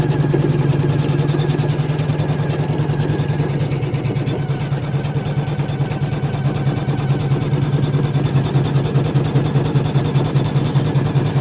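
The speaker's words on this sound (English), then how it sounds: "colorway 5 is going to do the satin stitching around that ear section" An embroidery machine satin-stitches colorway 5 around the appliqué ear of a minky koala lovey, a steady, fast, even mechanical whir with a low motor hum running unbroken throughout.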